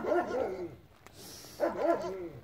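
A dog gives two short bursts of barking, close and fairly loud, with a brief pause between them.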